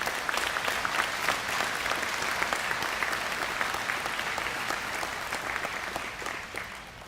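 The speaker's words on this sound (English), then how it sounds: "if you could give yourself a round of applause for all your hard work" Graduates and families applaud at a high school graduation ceremony, a dense sustained crowd clapping with many individual claps audible, holding steady before tapering slightly at the end.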